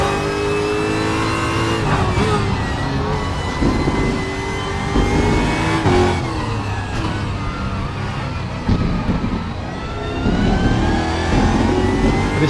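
A Ford GT3 race car in the RaceRoom sim game revs hard and continuously, its engine pitch climbing and dropping through repeated gear changes, loud and unbroken with no talk.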